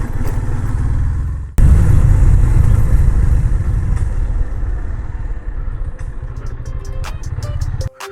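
A Yamaha FZ-S V3 motorcycle rumbles steadily while being ridden, a close low engine drone with a sharp surge after a brief dip, then fading out with a few clicks at the end.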